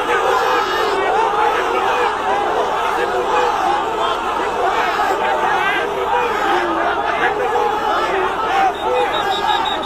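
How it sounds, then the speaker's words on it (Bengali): Large crowd chanting the slogan "bhuya bhuya" together in a steady, rhythmic roar, loud and sustained throughout with mingled shouting voices. "ভুয়া ভুয়া স্লোগান দেয়।"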